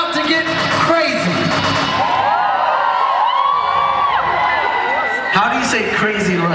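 A concert crowd at a show cheers, whoops and yells loudly and continuously, a dense roar of voices filling the whole stretch with a fresh surge near the end.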